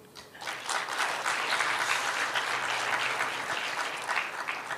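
Audience applause at a talk event, a dense, sustained wash of many hands clapping that swells quickly and holds steady for several seconds, fairly loud and close.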